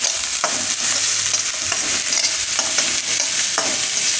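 Vegetables for a vegetable lasagna sizzle and fry in a salted pan, a steady close hiss with occasional stirring scrapes and clinks throughout, no talking.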